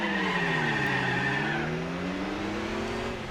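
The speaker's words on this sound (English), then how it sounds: "Control that wheel spin and off we go." A Peugeot 206cc spins its wheels at a race start in Gran Turismo 4, tires squealing over a rising, revving engine drone that swoops in pitch, continuous and close for a few seconds.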